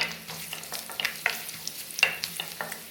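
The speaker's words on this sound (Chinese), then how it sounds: "放入姜片，翻炒几下。" Ginger slices stir-fried in hot oil in a wok, a soft continuous sizzle broken by light, irregular scraping clicks of the spatula, quiet and close.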